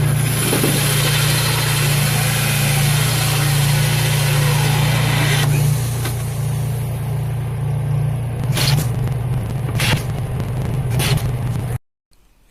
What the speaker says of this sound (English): I use a corded drill to cut the holes for the lights.